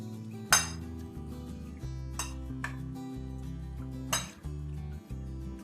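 Spices are mixed into a chicken marinade in a bowl, with a few sharp metallic clinks of a spoon striking the dish at irregular intervals over quiet tonal background music.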